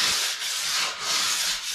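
A diamond stone rubs back and forth along ski edges to polish off burrs, a steady rasping scrape in close, even strokes with slight dips between passes and no talking.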